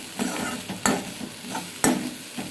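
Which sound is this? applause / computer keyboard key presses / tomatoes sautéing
tomatoes sautéing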